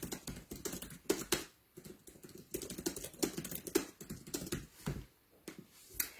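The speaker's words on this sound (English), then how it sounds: "let me just type this" A computer keyboard is typed on nearby in quick irregular bursts of clicky keystrokes, with short pauses between runs.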